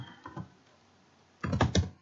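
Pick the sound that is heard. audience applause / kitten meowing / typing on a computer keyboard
typing on a computer keyboard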